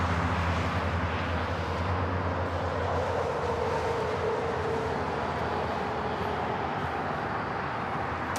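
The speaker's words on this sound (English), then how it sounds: "This is Delta 829 coming in from Salt Lake City on the A321." A Delta Airbus A321 airliner arriving from Salt Lake City at Los Angeles airport: a broad, steady jet roar that swells gently and stays strong throughout, heard at a distance outdoors without speech.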